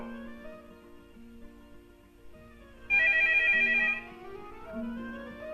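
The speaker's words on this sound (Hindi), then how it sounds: "टेलीफोन" A telephone rings with one loud electronic trill lasting about a second, over a quiet, steady background.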